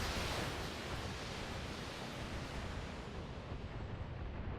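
A broad roaring wash of noise from a volley of two LRM-15 missile launchers fired in BattleTech, loud and steady, fading slightly in the high end toward the close, with no voices.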